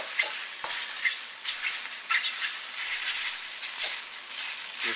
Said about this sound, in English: your spatula, break them up.